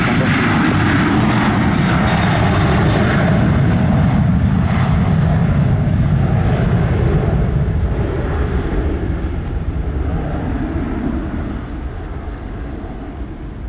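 An American Airlines Boeing 757 jet roars loudly near the runway, a broad, steady engine rumble that slowly fades as the plane moves away.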